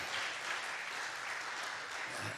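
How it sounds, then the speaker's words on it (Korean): An audience at a Korean church leadership conference breaks into applause, a dense, even wash of many hands clapping that holds steady and fairly loud for the whole stretch. "그렇게 해서 박수 한번 하겠습니다"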